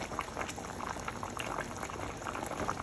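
Faint, steady bubbling and hissing of boiling water with Jamaican oxtails in a pot, continuous and low in level throughout.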